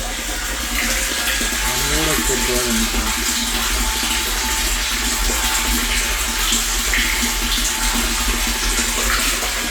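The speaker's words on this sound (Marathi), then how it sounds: "बघा हे पाणी येतं थोडं फरक आहे, हे निघतं आहे." Water runs steadily from a filter pipe at a village free-range poultry farm on a rainy day, a continuous close rushing flow with a brief voice early on.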